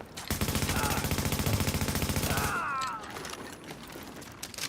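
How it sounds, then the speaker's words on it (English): Automatic gunfire in the video game The Division, a rapid loud burst of evenly spaced shots lasting about two seconds, then a quieter rattle of mechanical clicks. "he's shooting me."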